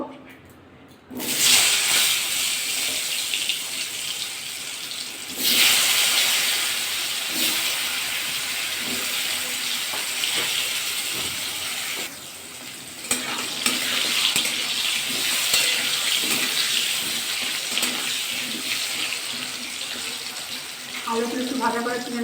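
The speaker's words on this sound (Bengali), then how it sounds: "আলুতে লবণ মাখিয়ে নিয়েছি আলুগুলো ভাজা করে নেবো" Salted potatoes dropped into hot mustard oil in a wok burst into a loud, close, sustained sizzle that surges again as more pieces go in, with stirring scrapes.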